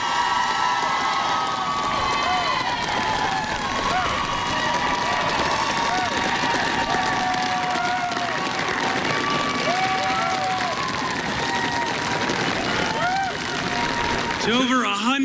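A large crowd applauds and cheers steadily at a political speech, dense clapping and shouts holding loud and continuous throughout with no clear talking on top.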